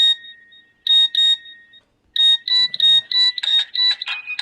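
A Nokia ringtone previewed in a ringtone app plays as bright electronic melodic tones in rapid bursts, with a short gap partway and faster, denser notes toward the end, loud and clear with no talking.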